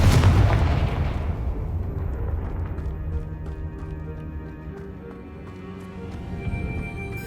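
Confringo blasting spell from Hogwarts Legacy on PS5, set off with a loud, booming explosion at the start that fades into a long, rumbling tail with layered game ambience beneath it.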